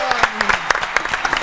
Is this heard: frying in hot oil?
no